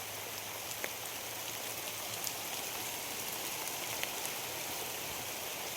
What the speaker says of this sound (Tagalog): Ang tagal naman kasi ng ulan,